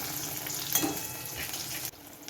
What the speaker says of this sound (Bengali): মিডিয়াম ফ্লেমে আমি এটা আস্তে আস্তে ভেজে নেব